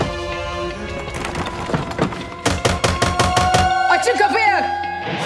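Heavy fists pound a locked palace door in a rapid burst of loud thuds, set against music and a dramatic period scene.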